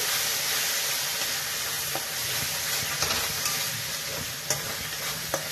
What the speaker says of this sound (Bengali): সর্ষে বাটাটা দিয়ে দিলাম ভালো করে কষে